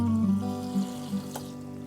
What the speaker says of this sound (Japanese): まずローズマリーを水で洗っていくのですが